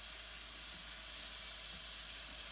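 Chicken pieces frying in a pan for chicken pomodoro, a steady, close, even sizzle and hiss with no talking over it.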